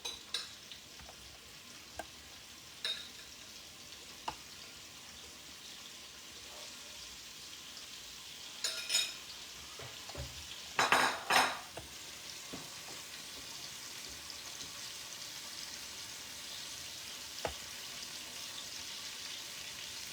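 An ingredient browns in hot ghee in a pan with a soft, continuous sizzle throughout, broken by a few sharp clicks and a brief louder burst of spattering near the middle, fairly quiet and close.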